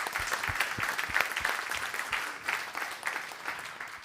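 Conference attendees at an event in the Hauts-de-France applaud in a steady wash of clapping for several seconds, with a few low thumps underneath and no voices over it.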